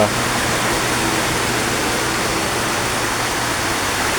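Submersible pump churning water hard in a koi pond, a loud, close, steady rushing wash like a waterfall that stays constant throughout.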